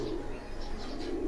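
Pigeons coo in a soft, low, rolling murmur, close by and continuous, with no talk.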